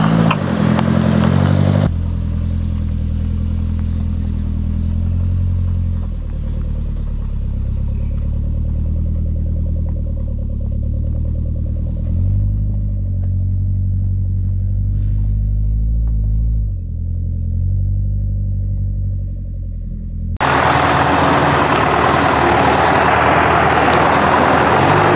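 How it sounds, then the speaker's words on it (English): A 4x4 crawls very slowly with front and rear cross-axle differential locks engaged, giving a steady low engine rumble with slight rises in revs, close and continuous, without talk. "see just how slowly the cross-axle lockers allow the vehicle to go"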